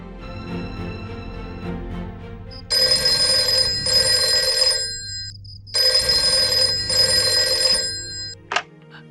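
A telephone rings at night with two long bursts of a bright electronic bell, loud and close over a low background music bed, with a short pause between rings.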